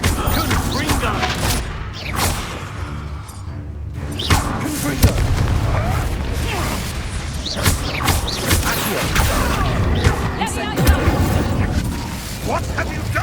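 Confringo fire spells burst in Hogwarts Legacy during a busy fight. The booming blasts are layered over continuous combat noise, clatter and character voices.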